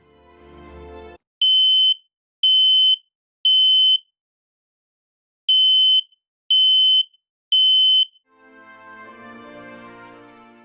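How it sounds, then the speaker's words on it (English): Two sets of three loud, shrill smoke alarm beeps sound in a steady pattern as the test button is held down, with brief noise before and a rising hum after. "Test your smoke alarm by pushing the button"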